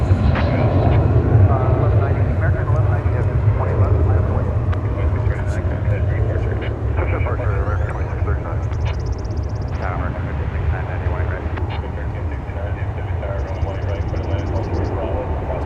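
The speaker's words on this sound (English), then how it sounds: "Flight 1567 arriving, an Airbus A321 from Atlanta." An Airbus A321 arrives at DFW from Atlanta, a steady low rumbling drone sustained throughout, with voices talking over it and some brief higher tones.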